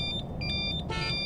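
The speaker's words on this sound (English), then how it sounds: "The interlock buzzer will beep continuously." A Dräger Interlock XT breath alcohol interlock handset in a vehicle sounds its buzzer after a retest violation: a steady run of close, shrill electronic beeps over low background rumble.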